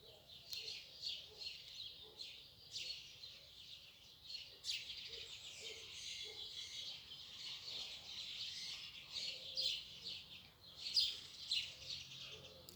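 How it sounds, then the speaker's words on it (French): Many birds chirp and tweet outdoors near Capestang in the Hérault before a storm, a busy chorus of repeated high calls, fairly faint but continuous. "On a plein d'oiseaux,"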